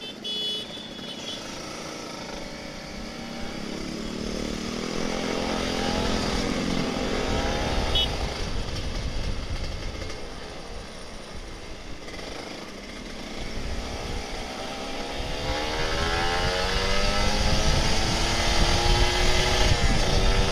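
A Kawasaki Ninja RR 150 motorcycle engine revs up through its gears while riding, the two-stroke whine climbing and falling close by, loud and steady without speech.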